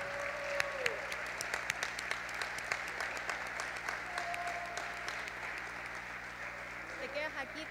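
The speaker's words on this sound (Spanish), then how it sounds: "Les pedimos entonces un gran y caluroso aplauso a todos los egresados y egresadas de esta" A school audience at a 2020 graduation ceremony at Colegio Notre Dame applauds the graduating class, dense, sustained clapping filling the whole stretch with a few louder individual claps scattered through it.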